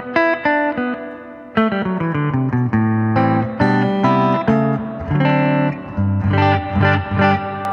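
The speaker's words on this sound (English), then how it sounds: "So you can just have the reverb in" Electric guitar played through a Fender Pano Verb amp with its reverb turned up high: a loud run of picked notes and chords, each ringing out with a lingering wash of reverb, with no speech.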